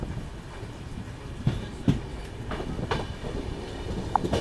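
Uttarbanga Express 13147 rolling along the rails near Aluabari Road Junction, a continuous rumbling carriage drone with sharp periodic wheel clacks and a brief squeal, heard from on board.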